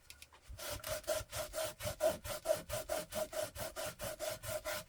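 A journal page rubbed hard to lift a stain gives a steady back-and-forth scrubbing rasp, about three strokes per second, close and fairly quiet with no talk.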